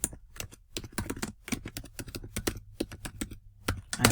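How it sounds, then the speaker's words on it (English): Script being typed on a computer keyboard, a steady run of quick close key clicks with brief pauses and no voices. "And we're going to type in our script"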